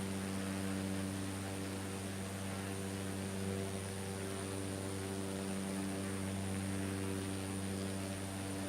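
A small Cessna's propeller engine in a flight simulator drones steadily with a strong, even tonal hum and a whooshing airstream, constant and unchanging, with no voices.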